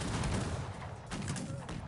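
Musket volley fire from Cossacks 3, with Serdiuk troops shooting at an advancing army: dense, continuous crackling gunfire that keeps sounding throughout, fairly loud, with battle noise layered over it.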